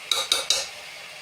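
A metal spoon stirring biryani masala in a cooking pot, three quick clinking scrapes in even rhythm, close and moderately loud, then a faint fading tail.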